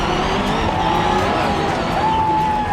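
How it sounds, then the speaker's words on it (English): A number 11 Subaru rally car at a race start holds a steady, loud engine roar with a rising tone partway through, close and continuous, with no talking over it. "Later that afternoon, Sverre's number 11 Subaru is lined up for the final showdown."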